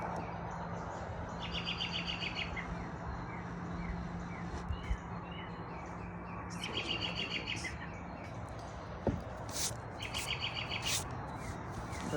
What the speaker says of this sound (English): Birds are about to go to sleep, so they're all chirping really loud.